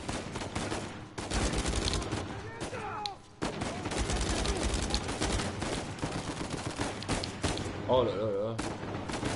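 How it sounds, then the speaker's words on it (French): Heavy gunfire coming from all sides in Uncharted 4, dense bursts and rattling shots nearly continuous at close range, with someone speaking French over the shooting. "Ça tire de partout."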